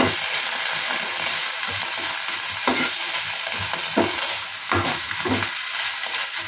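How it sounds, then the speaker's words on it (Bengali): Vegetables fry in a hot pan with a constant loud sizzle, broken by repeated scraping strokes as they are stirred. "দেখো অনেকটাই ফ্রাই হয়ে এসছে।"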